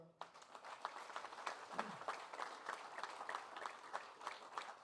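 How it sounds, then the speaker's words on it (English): Applause from an event crowd in Lethem, Guyana: a faint, distant wash of clapping that stays steady, with a brief murmur of voices. "I ask you to applaud her"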